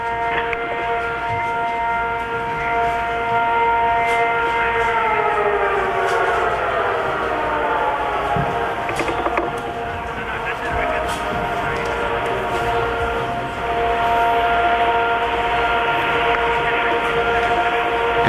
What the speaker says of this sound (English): Air raid sirens in Riyadh, the capital of Saudi Arabia